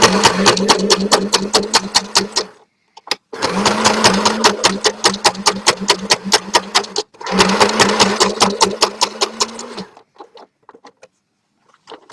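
Sewing machine stitching a striped tie-dye bag, loud and close, running in three long rapid bursts of rhythmic needle thumps separated by brief pauses, then fading into faint ticks.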